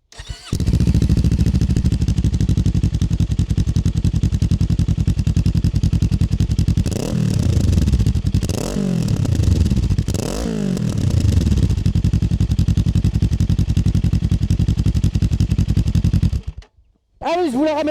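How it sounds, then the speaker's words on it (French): Kawasaki Ninja 500 SE with a Remus sport exhaust revving hard at close range, a loud steady engine drone broken by several sharp rising-and-falling throttle blips before cutting off near the end. "la sonorité du pot Rémus là sur le pack sport, elle est vraiment agréable"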